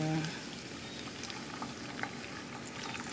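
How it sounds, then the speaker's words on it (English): Roast beef, scallions and onions sizzle in a pan as they fry, a soft continuous bubbling hiss with faint scattered pops, heard up close beneath a speaking voice. "once you hear the popping sound, you know that the water's drying out of it"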